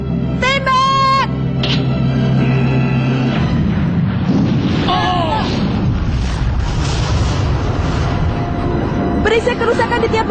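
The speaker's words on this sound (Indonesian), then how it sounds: "Angin karena ledakan sampai terasa ke sini." A deep, heavy cannon blast booms and rolls on for several seconds, loud and sustained, with a dramatic musical score and sweeping effects around it.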